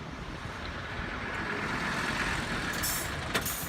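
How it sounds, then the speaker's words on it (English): A resort cruiser bus pulling up at a hotel lobby near Tokyo Disney Resort gives a steady low engine rumble with broadband road noise, ending in a brief hiss of air brakes and no voices. "the bus just pulls right up to the hotel lobby"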